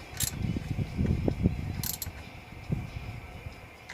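A belt tensioner on a 1977 GMC pickup is cranked tight, giving a run of close mechanical ratcheting clicks and creaks, moderately quiet and easing off toward the end.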